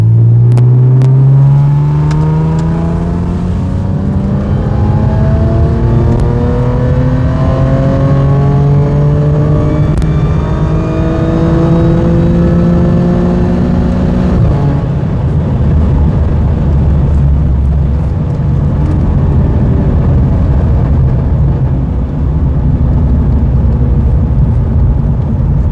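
A 3.0T engine fitted with a MercRacing 4.0T heat exchanger accelerates hard in 4th gear from 2,000 RPM, its pitch climbing steadily and loudly for about fifteen seconds before easing off into a lower, steady drone.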